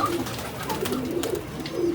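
Pigeons coo softly in low, repeated murmuring calls at a cage, close and continuous, with some birds flying and others still inside.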